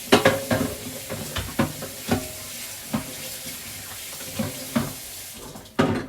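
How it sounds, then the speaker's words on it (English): Donut pans get wet and rinsed under running water at a sink, with a continuous splashing wash and repeated clanks and knocks of the metal pans. "I'm going to wet these down and try to rinse them off"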